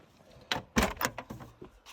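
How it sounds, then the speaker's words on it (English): The stiff rear door of an MG Maestro rally car is worked open with a quick run of fairly quiet metallic clicks and clunks, with no talking. "if I open the back door here, which is an absolute pig to do"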